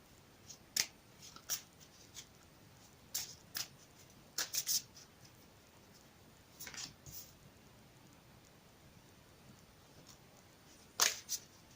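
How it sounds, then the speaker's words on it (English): A deck of oracle cards being shuffled in several separate bursts of crisp riffling and snapping, with quiet pauses between them, close by and with no talking. "I've already pre-shuffled the deck, but I will shuffle it again for you on camera"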